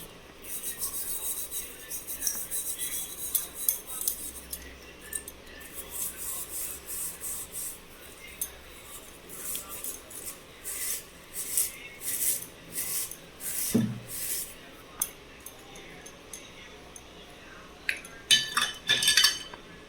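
Repeated harsh rubbing and rasping of brass pots being scrubbed by hand, in rhythmic strokes with occasional clinks, close and fairly loud.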